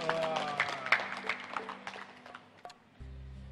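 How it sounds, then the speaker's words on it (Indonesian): Scattered clapping from a small audience at a Ramadan children's event, uneven and fading out, with a few voices mixed in and a hum at the end. "Nah, kasih tepuk tangan."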